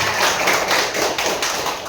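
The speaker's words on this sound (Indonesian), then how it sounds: "Tepuk tangannya." A classroom of students claps together on their teacher's cue, a steady, dense patter of many hands that holds at an even level for the whole stretch with no voices over it.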